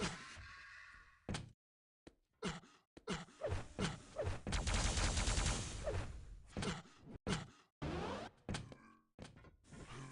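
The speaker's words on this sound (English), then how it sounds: "Oh my goodness, the pre-fire rocket." Rocket launcher fire and explosions in a Quake Live duel match, with repeated sharp thuds and blasts in quick bursts over continuous game noise.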